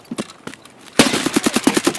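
Gunfire in Escape From Tarkov, an AKM among the weapons: a few scattered shots, then a loud rapid automatic burst of about ten close, evenly spaced cracks.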